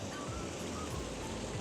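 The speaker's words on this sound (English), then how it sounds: "It's a tiny little waterfall, but really cool." A tiny waterfall on Dartmoor near Stonecross pours in a steady, broadband rush of water, continuous and close without any voices.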